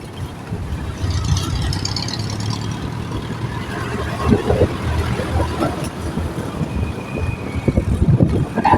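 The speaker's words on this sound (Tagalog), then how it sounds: "Traffic talaga" Road traffic heard from inside a car on a Sunday drive from North Avenue toward Bulacan: a continuous low engine and road rumble that stays steady throughout.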